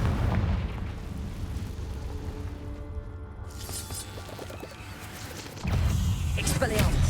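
A Confringo fire spell exploding in the video game Hogwarts Legacy: a sustained rumbling blast builds, then a sudden loud burst hits near the end over continuous game noise.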